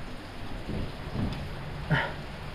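Rain falling outdoors, a steady hiss with a few soft thumps and one brief louder knock near the end.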